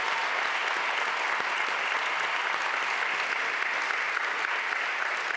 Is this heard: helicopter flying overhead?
no